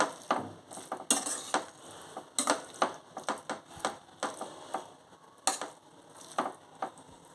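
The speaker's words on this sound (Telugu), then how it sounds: "కొత్తిమీర వేసుకొని ఒకసారి కలుపుకుందాం" Brinjal fry with garlic chili powder being stirred in a pan after coriander is added, a spoon clinking and scraping the pan in irregular bursts of strokes, close but fairly quiet, with no speech.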